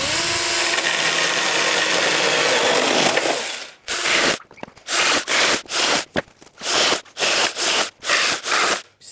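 Ryobi 18V brushless pruning saw cutting through a wooden pallet, a continuous loud buzzing chain cut that ends, then a rapid series of short, evenly spaced revving bursts with brief gaps, close and without talk.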